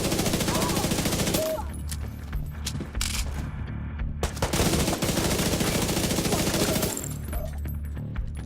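Submachine gun fire in the game The Division 2, with rapid sustained bursts of loud automatic shots, a short pause in the middle, then more continuous firing.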